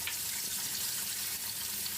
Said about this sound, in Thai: จากนั้นเราก็ตอกไข่ลงไปครับ